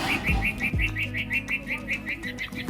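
Sparrows chirp in a steady, rapid series of bright, close calls, with a few low thumps underneath.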